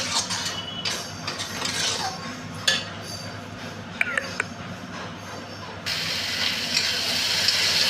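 Fried mung dal being stirred into spices in a pan, a steady sizzle with scraping and a few clinks of the spoon, fairly close and moderately loud, with faint talk nearby.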